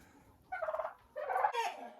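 Farm turkeys gobble in two short rattling bursts, faint and a little distant, with a quiet pause between them.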